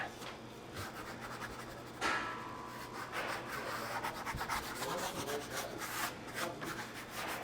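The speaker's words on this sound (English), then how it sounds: "First dust, you gotta rub it in." Pizza dough is rubbed and pressed into a dusting of flour, making soft, close, papery scraping and rubbing sounds in uneven strokes with no talking.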